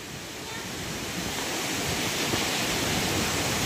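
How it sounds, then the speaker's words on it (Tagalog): Big ocean waves surge and roar in a continuous, loud, broadband wash at a resort shoreline, building steadily with no break and no voices. "yung alon lumalaki na po"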